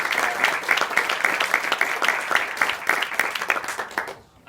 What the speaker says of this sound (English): they deserve a round of applause for all they do on a day-to-day basis